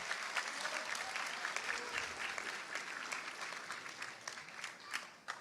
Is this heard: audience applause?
yes